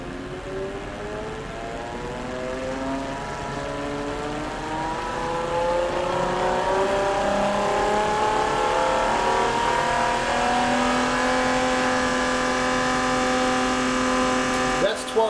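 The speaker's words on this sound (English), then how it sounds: "That's 12 volts. That pump is running full force." A Jabsco impeller pump run at 12 volts, its motor whine climbing steadily in pitch and loudness as it reaches full speed, close and continuous, with someone talking over it.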